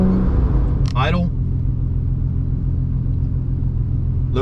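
A Porsche 911 Turbo with a straight-piped exhaust idles in a steady low rumble, heard from inside the car, with a brief voice near the start.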